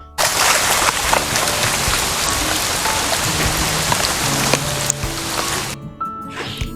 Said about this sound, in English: Yeah, that's some serious rain there.